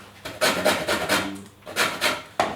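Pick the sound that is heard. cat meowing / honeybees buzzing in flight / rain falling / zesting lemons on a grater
zesting lemons on a grater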